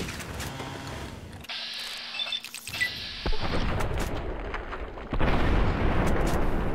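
A game explosion in Fallout New Vegas booms out after a short quieter stretch, followed by a rumbling blast and ringing debris that swells louder toward the end.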